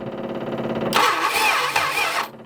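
An old Plymouth Barracuda, abandoned for decades, cranks with a low rhythmic starter chug and then bursts into a loud, close engine roar that runs for over a second before dropping off.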